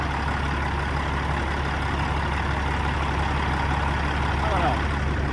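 A stock Caterpillar C15 diesel truck engine with a max-effort tune runs at a steady high idle, a loud continuous low drone and rumble with no letup, close by.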